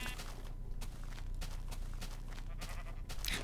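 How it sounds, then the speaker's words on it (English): Several sheep in the Minecraft video game bleat over a busy in-game background of footsteps and ambient noise, the bleats coming at moderate loudness amid steady clutter. "Oh my god, there are so many sheep."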